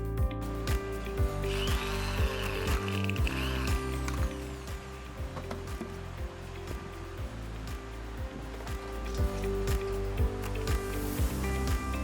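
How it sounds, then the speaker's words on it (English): Power screwdriver driving screws into the cap of a plastic bathroom tap on a factory line, a steady train of rapid repeated pulses over constant machinery hum and clatter. "the beautifully designed cap is fitted with screws."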